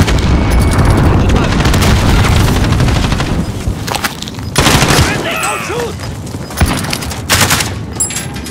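Heavy gunfire and a grenade blast in the video game Warzone: loud dense bursts and booms fill the first half, then sharper separate shots and impacts follow, with spoken voices and game sounds mixed in.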